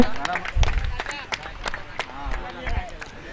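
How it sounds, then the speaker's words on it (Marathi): Spectators clap at a local cricket match between Mahalunge and Karnje in a village cup tournament, scattered moderate applause rising and falling over a few seconds beneath an announcer speaking over a loudspeaker. "राजा गाडगेसाठी टाळ्या होत्या मित्रांनो"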